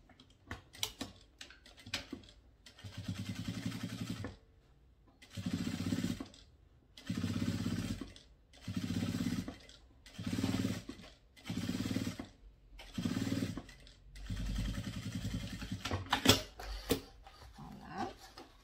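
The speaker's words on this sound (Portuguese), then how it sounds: "E aqui agora eu passo um pé de máquina que é o pesponto." Sewing machine topstitching a small half-moon bag, running in short regular bursts separated by pauses, fairly quiet and close with a mechanical rattling stitch.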